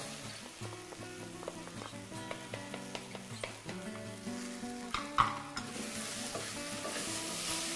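Giromont squash sizzles as it fries in a pan and is stirred, a steady crackle with scraping stirs, partly under tonal background music and growing hissier toward the end.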